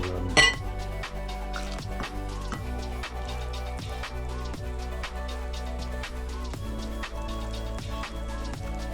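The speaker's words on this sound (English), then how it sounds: "what we're going to do next is mix them all together" Pancake batter of milk and other ingredients whisked in a bowl, giving rapid, continuous metallic clinking strokes against the sides, close and steady with no talk.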